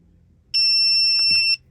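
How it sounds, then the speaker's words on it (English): A tyre pressure monitor gives one sharp, high electronic beep lasting about a second after its set button is held, loud and close in an otherwise quiet space. "Just hold it down until it beeps"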